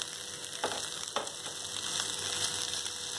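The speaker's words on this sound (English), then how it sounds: "Here I have added my bhindi in 10 ml of oil" Okra (bhindi) sizzles steadily in about 10 ml of hot oil in a pan, a continuous close frying hiss with a couple of brief stir clatters and no voices.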